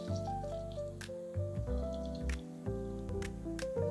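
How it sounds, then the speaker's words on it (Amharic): A lemon squeezed by hand over a dish, giving soft wet squishes and drips of juice at a few moments over quiet background music. "1 ሎሚ በደንብ አድርጋችሁ ትጨምቁበታላችሁ።"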